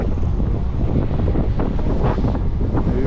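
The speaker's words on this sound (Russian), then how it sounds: "Ветер бушует." Strong winter wind on the Yalta seafront roars steadily and close into the microphone, a dense, unbroken rumbling buffet throughout with no voices.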